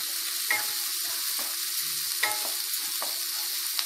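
Tomatoes frying in a pan for a mushroom gravy hiss with a steady broadband sizzle, broken by a few soft stirring scrapes and clicks, close and alone with no voices.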